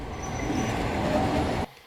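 A train rumbles steadily in an audio drama scene where a young girl sits aboard, a continuous muffled rolling hum with faint wheel squeal that cuts off abruptly near the end.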